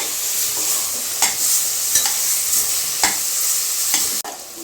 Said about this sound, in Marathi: तांदूळ टाकून घेते आता आणि थोडेसे परतून घेते